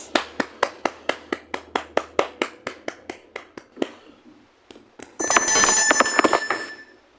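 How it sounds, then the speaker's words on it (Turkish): A classroom bursts into applause that starts as steady, rhythmic clapping in unison and slowly fades out. A sudden bright, ringing burst of noise follows near the end. "Evet alkışlayın bakın"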